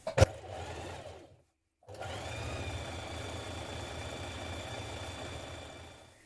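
Sewing machine basting the outer edges of a coat collar, running in a steady whirring stitch, pausing briefly, then continuing evenly and fairly quiet, with no talk.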